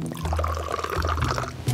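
Water is poured into a pot to start making chai at a roadside tea stall, a short steady splashing pour heard close up with a low hum beneath.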